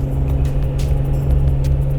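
A Jeep Wrangler JK, regeared after fitting 37-inch tires, drones loudly at high RPM while climbing a hill, a steady low engine hum heard from inside the vehicle with faint rattles and no talking.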